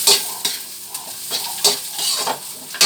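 Chili sizzling in a pan, a strong close hiss broken by repeated scraping stirs and bursts of spitting every half second or so, with no voices.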